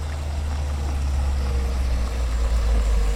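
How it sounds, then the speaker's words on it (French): A car engine runs steadily as a storybook sound effect, a continuous low idling rumble with no breaks, fairly loud and heard alone without talk. "Le moteur ronfle."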